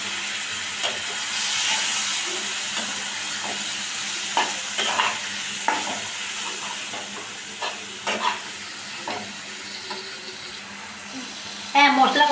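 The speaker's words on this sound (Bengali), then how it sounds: "এবার অল্প জল দিয়ে এই মশলাটা কষাতে থাকি" Spice paste for chicken masala frying in a pan with a little water, a steady hiss of sizzle with irregular scraping stir strokes throughout, a louder clatter near the end.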